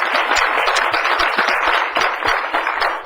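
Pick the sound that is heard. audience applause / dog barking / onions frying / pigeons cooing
audience applause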